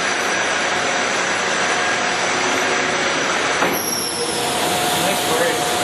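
Large 27.5 by 144 inch Monarch engine lathe running with a loud steady whirring roar, then its brake engaging and the pitch shifting as it slows, with voices in the background.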